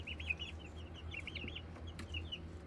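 Speckled Sussex chickens make soft, high clucking and chirping calls over a low background rumble, fairly faint and close.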